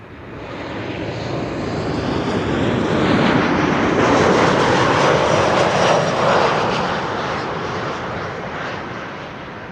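A Tarom airliner arriving from Bucharest comes in to land at Amsterdam Schiphol. Its engine roar swells steadily to a loud, broad peak mid-pass and then fades slowly, with no voices over it.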